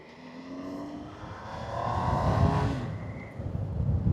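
A 2025 Triumph Tiger 800 Sport motorcycle engine hums steadily while riding, rising in pitch as it accelerates, with a smooth, fairly quiet drone and wind noise, no talking.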